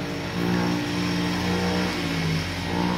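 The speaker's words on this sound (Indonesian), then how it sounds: "Suara motor." Motorcycle engine revving nearby, a steady loud mid-pitched drone that rises slightly in pitch over a few seconds, with no talking.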